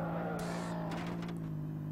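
A rocket-engined car in the Earn to Die 2 video game, giving a continuous steady engine hum with brief whooshing bursts and clatter from game effects, at a moderate level.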